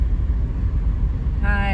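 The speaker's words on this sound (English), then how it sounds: "Hi, snow blowers." Snow blowers rumble past on a frozen Alaskan day at minus fifteen, a continuous nearby engine drone that gains a sharper whining tone toward the end, with a voice speaking over it.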